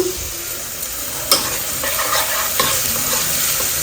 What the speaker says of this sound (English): cook it until the garlic ginger paste smell goes out